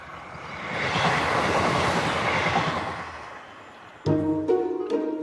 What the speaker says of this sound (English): the silent trains, people don't realise how quiet they are